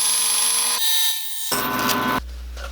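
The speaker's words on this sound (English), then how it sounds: "I'm just going to use the bandsaw." A bandsaw cuts through thin wood trim for a miniature storage build, a brief, close, steady buzzing rasp that changes pitch as the blade passes through the piece.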